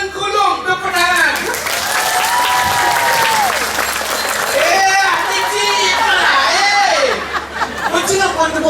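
An audience claps steadily and loudly at a Balinese drama gong performance, with voices calling out and talking over the applause the whole time.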